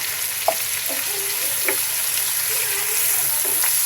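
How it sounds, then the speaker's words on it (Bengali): Grated coconut frying and being stirred in a pan, a steady close sizzle broken by a few sharp scraping strokes of the spoon, with no talking. "এখন আমি নারকেল দিয়ে দিচ্ছি।"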